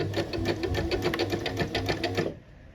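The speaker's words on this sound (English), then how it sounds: "So I'm just reverse stitching it, which is just as easy." Sewing machine reverse stitching a shirred dress seam, a steady fast mechanical clatter of needle strokes running close for about two seconds before stopping abruptly.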